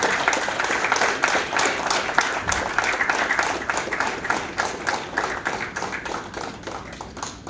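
An audience at an advisory meeting for young entrepreneurs in a Hosur hotel claps to welcome a guest onstage, the loud applause carrying a steady rhythmic beat of many hands throughout.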